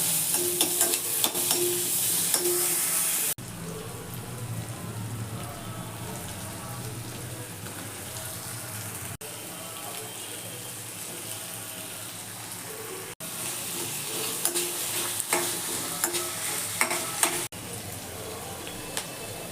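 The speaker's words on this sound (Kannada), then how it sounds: "ಬೆಳ್ಳುಳ್ಳಿ ಪೀಸ್ ಮಾಡಿದೆ ಹಾಕ್ತಾಯಿದ್ದೀನಿ, ಪೀಸ್ ಮಾಡ್ಕೊಂಡಿರೋ ಈರುಳ್ಳಿ ಹಾಕ್ತಾಯಿದ್ದೀನಿ, ಫ್ರೈ ಮಾಡಬೇಕು." Garlic and onion stir-fried in butter in a pan, a loud close sizzle with repeated stirring and scraping over about twenty seconds, broken by a few brief cuts, no talk.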